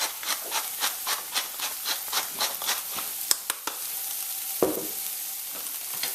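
Parsley, scotch bonnet pepper and fresh ground black pepper being stirred into mashed yams in a pot, heard as a steady series of close scraping strokes with a few sharp clicks and a soft thud, no talking.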